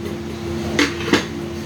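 A metal plate is picked up and handled in a home kitchen, two short clanks about a third of a second apart over a steady electrical hum.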